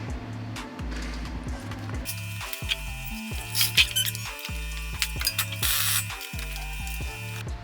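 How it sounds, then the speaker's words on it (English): A jack raises the rear axle of a 2013 Perodua Myvi with a run of rhythmic ratcheting clicks and squeaks, each pump stroke close and distinct, with a faint steady tone behind them. "I have prepared a jack here so that I can jack up the axle"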